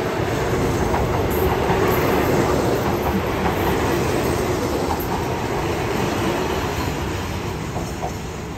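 An ordinary passenger train pulls in at Bang Sue Junction station in Bangkok, its loud steady rumble and clattering wheels filling the clip without pause, with faint squeals above and no voices.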